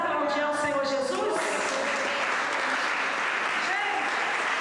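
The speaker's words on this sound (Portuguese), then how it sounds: "Podemos aplaudir ao Senhor Jesus?" A church congregation claps for Jesus at a 24th anniversary gathering, with dense, sustained applause mixed with cheering and voices throughout.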